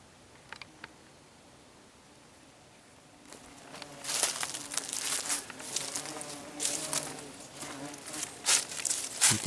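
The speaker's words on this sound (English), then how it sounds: "You can hear those bees buzzing around." Bees buzz close by, faint at first and then louder and denser as several pass near, with small clicks and taps mixed in.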